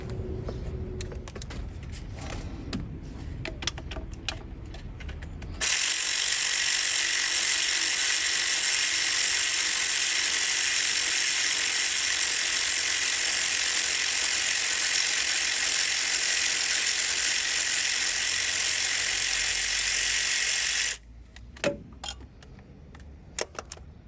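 A power socket ratchet spins a bolt loose on a Toyota Corolla's alternator, giving a loud, steady high whirring buzz for about fifteen seconds, with faint clicks and rattles before and after.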